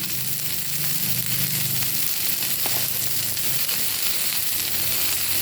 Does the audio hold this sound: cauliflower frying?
yes